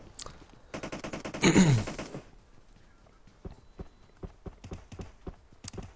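Gunfire in the mobile battle game PUBG Mobile on the Vikendi snow map, with two rapid bursts of shots, then scattered single pops and short volleys at moderate distance, with one louder whooshing hit in between.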